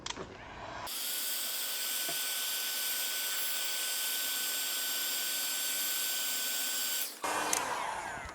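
A handheld heat gun warms a craft piece, its fan blowing a loud, steady whirring roar with a faint high whine, switching on after a brief pause and cutting off near the end.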